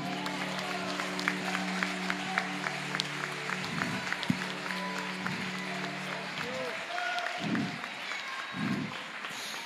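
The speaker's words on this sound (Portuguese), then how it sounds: "Você pode dar uma salva de palmas para Ele?" A church congregation at a family service gives a round of applause, a diffuse wash of clapping under sustained music tones and a few voices, moderately faint.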